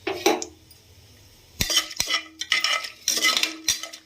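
Cardamom, cloves and peppercorns fry in a cooker while a spoon stirs them, giving close metallic scrapes and clinks in irregular bursts over a faint sizzle, with a quiet pause in between.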